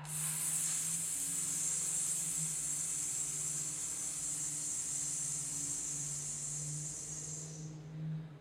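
A long, steady breath pushed out during a breathing exercise, heard as a continuous airy hiss lasting about eight seconds and fading out at the end, with a faint low hum underneath.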